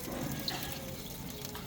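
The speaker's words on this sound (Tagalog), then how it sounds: "maglalagay kami ng tubig dun sa drip pan" Water is poured into the drip pan of a smoker before smoking pork ribs and beef, making a faint, steady splashing trickle with soft background hiss.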